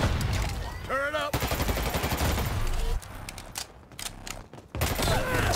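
Rapid, loud gunfire bursts in the online shooter Dirty Bomb during a competitive ranked match, with heavy blasts crowding the first seconds, a brief lull, then more firing, and a voice speaking under the shots.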